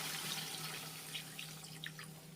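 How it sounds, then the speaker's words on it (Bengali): Water is poured into a pan of curry with chhana and potato, a steady soft trickle with faint splashes and drips, close and quiet with no talking. "এবার আমি আন্দাজ মতো জল দিয়ে দিলাম"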